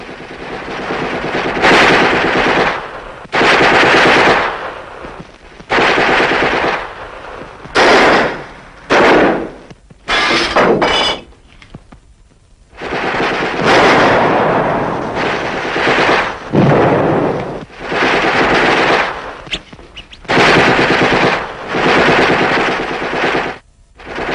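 Bursts of rapid automatic gunfire in a shootout at a house, loud and close, in repeated volleys separated by short pauses, with scattered single shots between.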